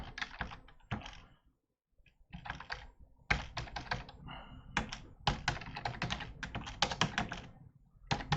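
Computer keyboard being typed on while entering Linux terminal commands, close and clear bursts of rapid key clicks with short pauses between runs, no talking.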